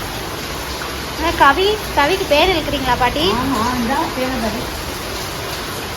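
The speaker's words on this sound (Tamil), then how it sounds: "செம்ம மழை." Heavy rain pours in a steady hiss behind a conversation, with people speaking over the constant downpour.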